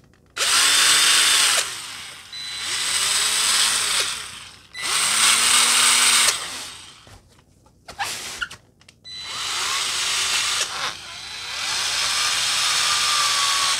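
A power buffer with a foam pad polishes a lacquered guitar body toward a mirror glaze, whirring loudly in four long bursts with brief quiet gaps and a few knocks between them.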